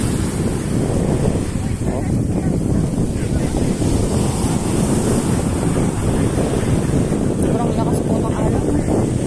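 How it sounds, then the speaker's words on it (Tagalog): Strong ocean waves roar continuously at night on Umm Suqeim 2 beach in Dubai, heavy surf churning under loud wind buffeting the microphone. "Sobrang lakas po ng alon."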